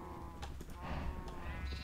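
Sheep bleating in the video game Minecraft, a few short bleats over a steady low game background, moderately loud with no talk.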